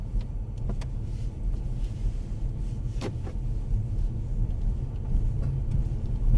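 Mercedes-Benz A-Class car driving at gentle throttle, a steady low engine and road rumble continuing throughout with a few faint clicks and knocks from inside the cabin.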